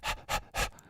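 A voice imitates a dog panting, three quick breathy huffs in a steady rhythm, close and fairly loud with nothing else around them.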